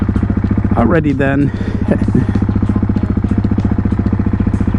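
A motorcycle idles steadily after a cold start, a loud, close, even putter with a rapid regular pulse, briefly overlaid by a voice talking in the first seconds.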